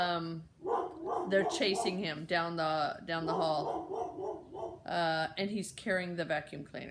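A dog named Hildy barking repeatedly in short bursts, mixed in with a person talking steadily over it.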